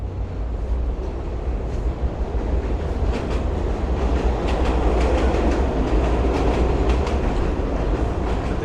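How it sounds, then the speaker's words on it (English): A New York subway train pulls into Brighton Beach in Brooklyn on a cold day, a loud, close, continuous rumble with rhythmic clickety-clack of wheels over rail joints and rising metallic squeals. "Train coming in behind me."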